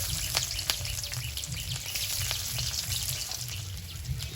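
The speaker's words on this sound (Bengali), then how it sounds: "কড়াইতে তেল দেব তেলের মধ্যে কালো জিরে দেব রসুন কুচি" Nigella seeds and chopped garlic frying in hot oil in a wok give a constant close sizzle with small pops and crackles over a low background hum.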